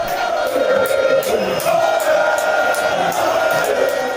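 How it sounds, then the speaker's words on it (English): Protesting crowd at a collation hall in Techiman South, a loud, continuous roar of many shouting voices with rising yells and sharp outbursts layered over the din. "This video shows protest from the crowd"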